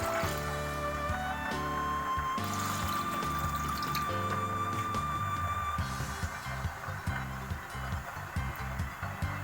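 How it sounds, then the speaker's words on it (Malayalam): Water pours steadily into a pot of cut tapioca in a home kitchen, a continuous close gush with faint rattles and trickles throughout. "നമുക്ക് ആവശ്യത്തിനുള്ള വെള്ളം ഒഴിച്ച് കൊടുക്കാം അതിലേക്ക്."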